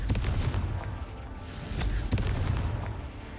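Confringo fire spell in Hogwarts Legacy bursts in a rapid string of booming, crackling explosions, dense and loud throughout with repeated sharp pops like fireworks, no speech.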